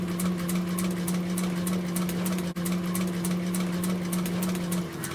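An upholstery sewing machine stitching seat covers and back-stitching over a cord edge runs steadily and close for about five seconds, with a rapid, even mechanical whir and one brief pause near the middle.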